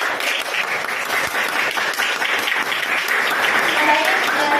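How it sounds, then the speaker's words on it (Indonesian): A classroom of students applauds a good answer, with sustained, fairly loud clapping mixed with chatter throughout. "Kasih aplaus."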